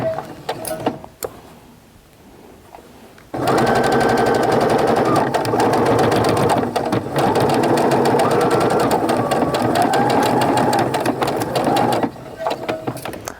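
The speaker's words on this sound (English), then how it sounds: "I'm slowing down as I'm coming to where those corners are, so I can be really deliberate about where I sew." A sewing machine stitching a quilted Valentine's mug rug, running in a long steady rapid whir after a quiet start, with someone talking before and after the run.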